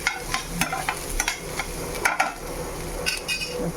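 Onion fries in a pan with mustard seeds, cumin and a little salt for egg bhurji, with a steady sizzle broken by repeated sharp scrapes and taps of a spoon stirring against the pan, close and without speech.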